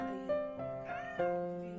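A cat meowing, with drawn-out, tonal meows close by, one after another, loud and clear with no talk over them.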